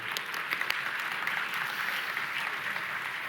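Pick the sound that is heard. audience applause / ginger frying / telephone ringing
audience applause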